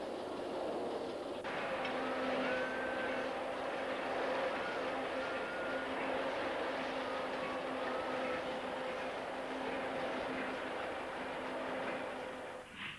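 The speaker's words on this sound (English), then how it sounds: "DH24 shunts at Trafford Park Industrial Estate." Sentinel 0-4-0 diesel hydraulic shunting locomotive, a 34-ton, 255 horsepower unit, working at an industrial estate; a steady close engine drone with a sustained tonal hum runs throughout, with no talk.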